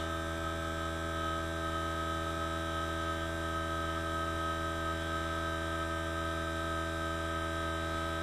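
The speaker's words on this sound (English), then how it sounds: "Forgive the noise in the background. I've got a very small tank on my air compressor" A small-tank air compressor running nearby, a constant steady electric hum and drone with no change throughout, fairly faint, no talking.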